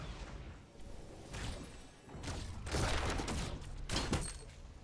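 Sideways Rifle fire in Fortnite, heard as several sharp, crackling bursts with whooshing energy over a busy game background, growing louder toward the end.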